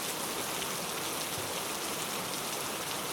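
Heavy rain pours down in a dense, constant hiss, steady and enveloping with no pauses or voices.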